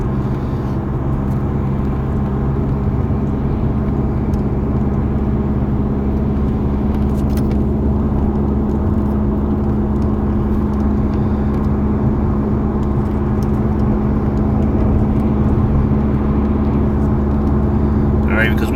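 Steady car road noise and low engine drone from inside a moving vehicle, continuous and fairly loud, with someone talking over it throughout.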